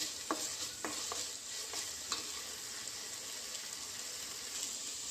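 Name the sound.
frying and stirring okra with onions in a pan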